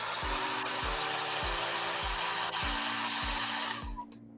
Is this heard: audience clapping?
no